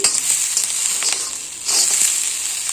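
Cashews frying in a hot pan give a steady, close crackling sizzle with brief stirring scrapes, with no voices.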